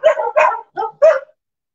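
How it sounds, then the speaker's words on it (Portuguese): Dogs indoors let out about four quick, close barks in a short burst, reacting to a noise on the stairs. "Os meus cães ouviram barulho na escada, então resolveram entrar em direto também para o mundo."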